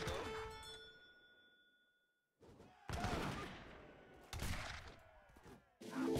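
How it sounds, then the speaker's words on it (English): Heavy cannon volleys in a strategy video game battle, several loud booming bursts separated by short gaps, with a ringing tone and a quiet stretch before the first blast. "Heavy cannon shots from the top rope."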